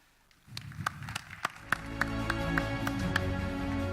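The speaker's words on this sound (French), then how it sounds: "Vous pouvez les applaudir" Audience applause for invited speakers at a French insurance-industry conference, a sustained wash of clapping that rises in at once and holds steady and fairly loud, with a few sharper individual claps standing out near the start.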